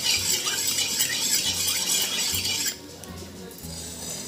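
A spoon stirs ghee and milk in a pan over a medium gas flame, with steady scraping and light metallic clinks that quiet down abruptly partway through.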